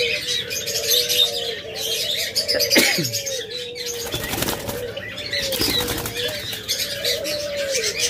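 Doves in a seller's aviary flap their wings in sudden close bursts while steady cooing and chirping carries on throughout, with a loud wingbeat flurry near the middle.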